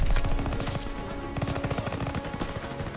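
Rapid automatic gunfire from a World War II weapon in the shooter game Call of Duty WW2, with bursts of shots stuttering continuously across a dense, noisy battle soundscape.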